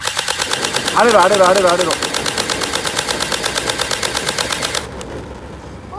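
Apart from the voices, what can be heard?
G3 SAS electric airsoft gun firing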